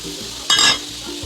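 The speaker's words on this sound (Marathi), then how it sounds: "आणि आता टाकायची आपल्याला मोहरीची डाळ" Mustard dal hits hot oil after garlic has browned, a brief loud burst of sizzle rising over a low frying hiss for under a second before settling back.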